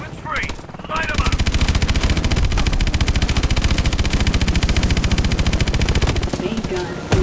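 Sustained automatic gunfire from a vehicle-mounted main gun in Call of Duty Advanced Warfare, a loud, rapid, unbroken burst of shots running for several seconds after a brief opening with radio-style voices.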